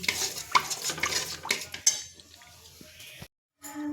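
Utensil scraping and clinking through a pot of cauliflower masala curry just after water is added, a busy run of stirring knocks and scrapes, then a short silence and a quieter tail.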